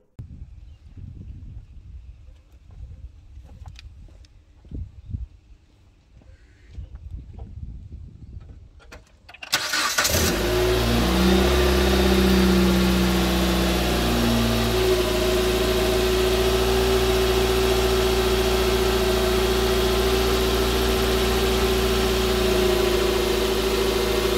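Car engine started during a battery charging test with a multimeter on the battery: quiet shuffling and handling noises, then an abrupt crank and start into a loud, steady close idle with a constant low hum for the rest.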